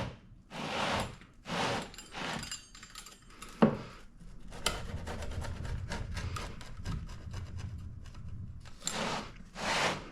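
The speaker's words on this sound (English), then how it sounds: "let me cut out a slice" Knife or cutter working through a slice of New York-style pizza: bursts of rough scraping and rubbing early on, a sharp knock, then a long run of close crackling crust cuts, with more rasping strokes at the end.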